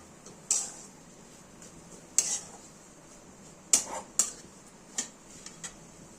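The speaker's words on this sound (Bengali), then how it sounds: "গুঁড়ো করে রাখা যে মশলাটা আমরা রেখেছিলাম সেটা আমরা দিয়ে দিলাম, দিয়ে ভালো করে মিশিয়ে দেবো" A spoon scraping and clinking against a pan while ground spice mix is stirred in, with a handful of sharp metallic taps spaced irregularly over a quiet background.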